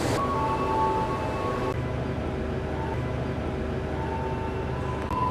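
Sribilah Utama train arriving on track 2 at a station in Medan, a steady low rumble of rolling stock with faint tonal squeal lines, continuous and fairly loud, no voices.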